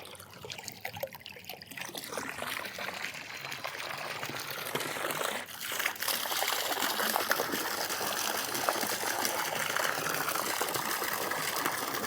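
Water pours steadily from a hose held up above a solar-powered pond pump, a continuous close splashing rush that grows slightly fuller partway through and carries on without a break.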